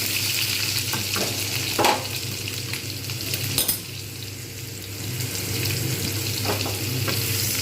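Potatoes sizzling in hot oil in a pan for a pumpkin, potato and pointed gourd curry, a steady loud fry with a few clinks and scrapes of a spoon stirring.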